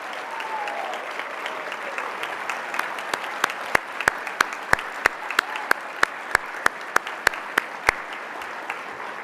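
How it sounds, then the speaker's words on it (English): Applause from an awards ceremony audience fills the room, steady dense clapping with a few sharper, louder claps standing out toward the end. "let's have a big round of applause for the past honorees"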